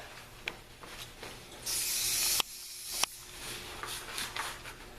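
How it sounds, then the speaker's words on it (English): Contact cleaner sprayed from an aerosol can onto a motorcycle handlebar, one loud hissing burst of about a second, then a few clicks and small handling noises in a quiet workshop. "Obviously now I'm going to take some contact cleaner"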